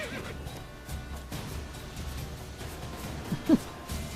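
Roach, a horse in The Witcher 3, gives a short whinny around the middle of the clip, rising briefly above a steady bed of game ambience and music.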